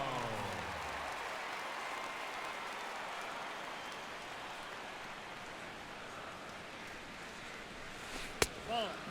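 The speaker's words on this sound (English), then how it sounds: "This crowd, not a huge one strictly in terms of numbers, has definitely had plenty to cheer about" Crowd cheering and applause from a baseball stadium in MLB The Show 16 rises as a broad, steady wash of noise across the whole stretch, with a brief sharp crack near the end.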